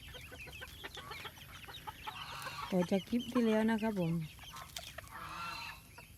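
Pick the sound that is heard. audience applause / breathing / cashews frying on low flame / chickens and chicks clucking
chickens and chicks clucking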